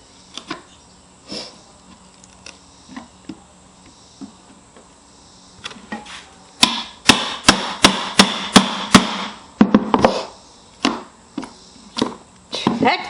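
Repeated sharp chisel strikes on wood while shaping a yarn swift, a burst of rapid close knocks in the middle flanked by scattered softer taps and scraping.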